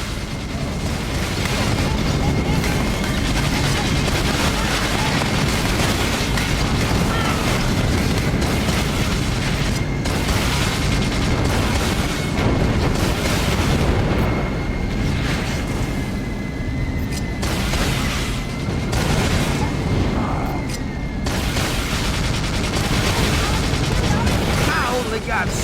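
In the GameCube game Battalion Wars, gunships pour out dense, continuous gunfire mixed with booming explosions, a loud unbroken barrage that continues throughout.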